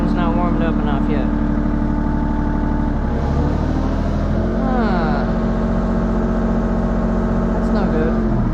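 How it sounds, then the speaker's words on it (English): A rented mini excavator's engine idles low and steady in cold winter conditions at a pond repair site, with the engine not yet warmed up and some mechanical whirring and shifting tones over the rumble. "Maybe the engine's not warmed up enough yet."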